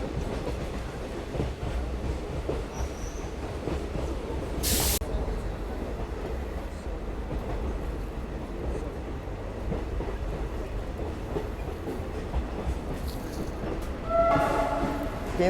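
A train rumbles steadily through the forest of Kali Tiger Reserve near Dandeli, a continuous close-up roar of wheels and carriages with rhythmic clattering, and a brief burst of louder rattling toward the end.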